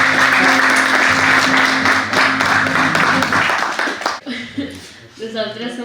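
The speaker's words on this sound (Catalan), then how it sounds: "Un aplaudiment." Audience applause for a school guitar group and their teacher, loud, dense clapping for about four seconds that then breaks off into scattered claps and some laughter and murmuring.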